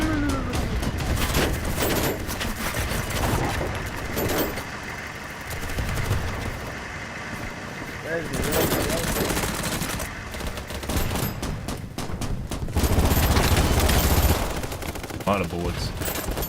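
Heavy video-game combat with near-constant rattling automatic gunfire and bursts of grenade blasts, dense and loud throughout with no letup and occasional stronger booms.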